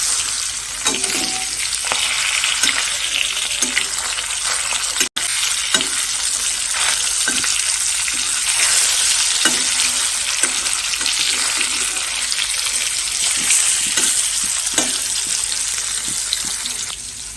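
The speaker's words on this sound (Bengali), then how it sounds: "দেখো মাছগুলি ভাজা বসিয়ে দিয়েছি চার পিস রান্না করবো" Four pieces of fish frying in a pan, giving a loud, continuous sizzle with occasional clinks of a utensil, no talk.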